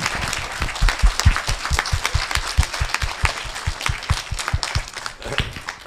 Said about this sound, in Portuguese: todos eles merecem uma salva de palmas